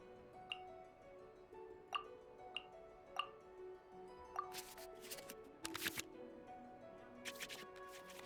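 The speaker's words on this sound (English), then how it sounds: "we can select any number of cards in our hand to shuffle back into the draw pile" Digital cards in the Genshin Impact card game sliding back into the draw pile, a series of sharp light ticks and soft swishes followed by a brighter flurry of shuffling clicks, clear with no talking.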